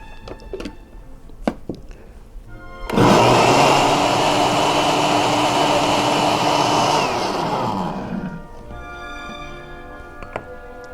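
A countertop blender whirs loudly for about five seconds, churning almond butter with water into almond milk, then winds down, with quieter kitchen clatter before and after.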